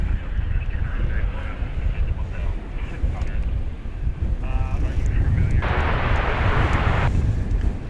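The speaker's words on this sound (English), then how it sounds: "Here comes the flight from Phoenix." A passenger airplane arriving from Phoenix at DFW Airport roars as a loud, broad rumble under gusty wind noise on the microphone, with a brighter hissing swell partway through.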